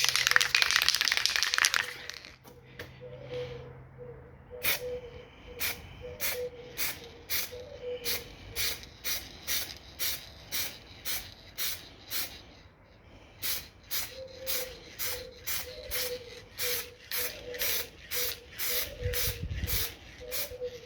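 Metallic black spray paint goes on in short, rhythmic bursts during an outdoor car body repair, each can press giving a sharp hiss, with a longer continuous spray at the start and brief pauses between passes.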